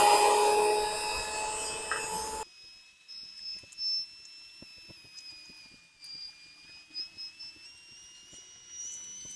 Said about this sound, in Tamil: ஹேண்ட் பிளெண்டரில் கொஞ்சம் பிளெண்ட் பண்ணிக்கலாம்